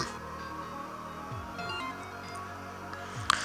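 A phone rings in the video game Undertale, a soft, continuous electronic tone pattern over steady game background music, with a brief click near the end.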